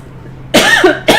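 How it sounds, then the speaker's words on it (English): Two sharp, close coughs from one person, a harsh burst followed by a second brief one after a short pause, heard in an otherwise quiet room. "And I'm coughing all over it."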